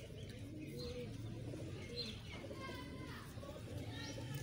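Sialkoti pigeons coo softly in a low, repeated murmur, with scattered chirps from other birds and faint background activity throughout.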